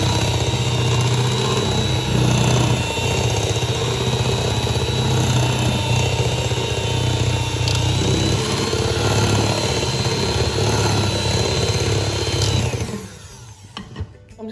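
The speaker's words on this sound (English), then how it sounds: "I'm just going to add that to the mixture and let's whisk it again." An electric hand whisk whirs steadily through Victoria sponge cake batter after milk is added, a loud continuous motor drone with high whine that cuts off abruptly near the end.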